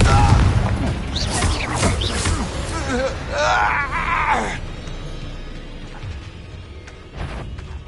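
Spell blasts in Hogwarts Legacy combat, a flurry of booming bursts and crackling impacts packed into the first few seconds with voices shouting amid them, then thinning to scattered softer hits.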